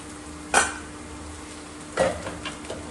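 A spoon scrapes and clinks against a cooking pot while potatoes are stirred, with two distinct knocks and a few lighter scrapes over a low steady background.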